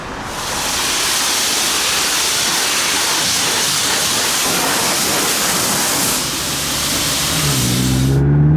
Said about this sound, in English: We're at the car wash then.